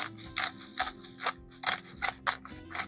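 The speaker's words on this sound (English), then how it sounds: "Grinding of salt. And a grinding of black pepper." Salt and black pepper ground by hand over beef short ribs for a potjie, a quiet rhythmic crunching and clicking of the grinder repeated several times, alone without talk.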